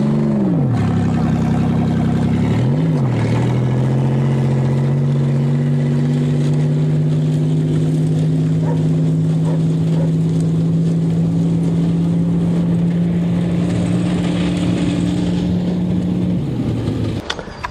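An engine idles and then revs with a steady drone in a Buick crushed twice by a 20-ton dozer, loud and close, with two quick throttle blips before a long sustained pitch that ends near the close.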